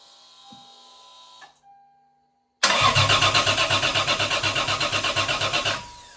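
Fully rebuilt Toyota 2JZ engine cranks briefly, falls quiet, then catches and fires into a loud, close, rough-pulsing run with a rapid, even rhythm before the recording cuts off.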